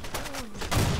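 Rapid gunfire from the online shooter Blackshot crackles in a quick run of shots over about a second, with a heavier burst toward the end.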